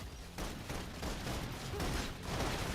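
Suppression gunfire in the video game Love and Deepspace, a dense continuous barrage of rapid shots that swells and dips in waves, fairly loud, with no voices over it.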